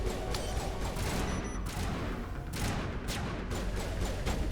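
Explosions and gunfire go off in a shooter video game, a dense rapid series of loud blasts and cracks repeating throughout with no pause, near and harsh.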